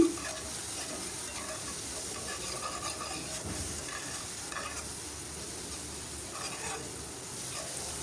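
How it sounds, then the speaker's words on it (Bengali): Masala cooking in a pan with salt for aloo gosht, a continuous close hiss of frying with soft scraping strokes of a spoon as it is stirred. "পরিমাণ মতো লবণ দিয়ে ভালোভাবে নেড়ে চেড়ে কষিয়ে নিচ্ছি মশলাটা"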